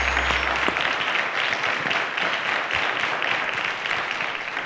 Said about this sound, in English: A round of applause to them, ladies and gentlemen.